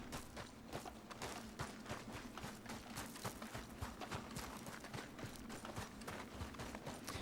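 A horse's hooves clip-clop in a steady walking rhythm, close and fairly quiet, in the Western video game Red Dead Redemption 2.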